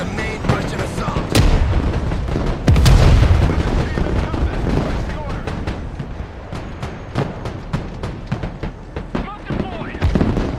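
Artillery fire booms again and again in the Broken Arrow war game, with sharp gunshot cracks scattered through a busy battle din, a heavier rumbling burst partway through, and steady crackling gunfire from start to finish.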